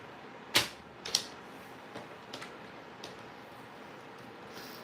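A paper strip trimmed to size for a handmade card gives two sharp cutting strokes in quick succession, followed by a few faint ticks over a steady low background hiss.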